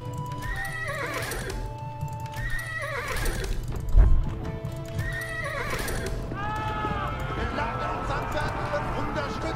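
Horses in the medieval strategy game Age of Empires IV neigh and whinny repeatedly over clip-clopping hooves, loud and close, with voiced unit responses spoken in German throughout.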